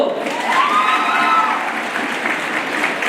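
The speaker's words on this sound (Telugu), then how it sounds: "గట్టిగా చప్పట్లు." A crowd claps loudly and continuously at a youth festival declamation contest prize announcement, a dense wash of applause with a few voices calling out.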